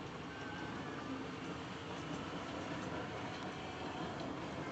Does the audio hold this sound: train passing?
yes